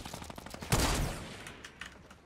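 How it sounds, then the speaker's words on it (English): Gunfire in Fortnite: Battle Royale, a rapid volley of shots followed by a louder burst that trails off, heard at moderate distance without speech. "Where are those guys shooting from now?"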